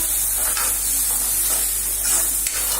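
Turmeric hits hot oil in a pan while cooking methi bhaji, giving a steady, close sizzle with soft stirring scrapes throughout and no talk.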